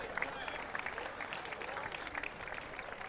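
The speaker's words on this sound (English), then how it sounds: "There's massive support for the lad as you hear everyone clapping in the crowd" Crowd clapping at a school first XV rugby match between Kingswood College and St John's College, a steady patter of applause from spectators that fills the scene, with scattered sharper claps standing out.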